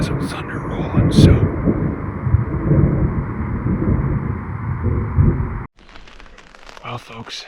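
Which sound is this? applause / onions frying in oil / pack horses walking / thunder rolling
thunder rolling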